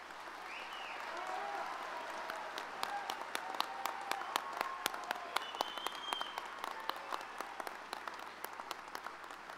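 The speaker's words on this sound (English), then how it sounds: "let's give our candidates a round of applause" A commencement ceremony audience applauds the degree candidates, a steady, fairly distant wash of many hands clapping with sharp individual claps standing out, continuing throughout.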